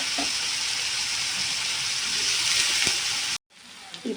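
Egg fried rice with meal maker sizzles in a pan, a steady close frying hiss that runs for over three seconds, then cuts out briefly before fainter sizzling resumes.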